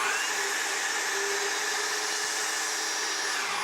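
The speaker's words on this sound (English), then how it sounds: "This is also super great for just blowing out your shop." An EGO leaf blower clearing out a shop gives a steady, loud, unbroken rushing whoosh of air, close by and constant throughout with no voices.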